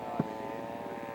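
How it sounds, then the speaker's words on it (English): Scale model propeller airplane flying at an aircraft show, a steady droning engine hum holding through the clip with a faint brief thump near the start, heard alone without talk. "Very nice flying airplane."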